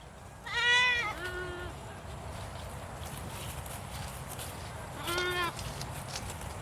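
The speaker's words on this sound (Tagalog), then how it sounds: "Mga kambing natin." Goats on a farm near coconut trees bleat in a few distinct calls: one loud bleat with a shorter follow-up, then another after a pause, over quiet outdoor background.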